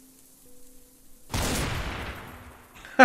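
A close, loud burst of gunfire in the game Cataclysm DDA, aimed at an armored SWAT zombie, starting abruptly after near-quiet and ringing on as a decaying rumble, with another sharp crack at the very end.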